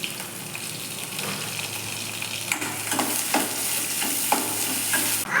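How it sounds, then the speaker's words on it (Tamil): Shallots sautéing with salt in sesame oil in a kadai, a steady hiss of frying with several sharper scrapes and stirring clatters in the second half. "வெங்காயத்தை நல்லா வதக்கணும்"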